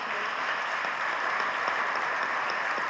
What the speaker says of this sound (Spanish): le damos un aplauso por las familias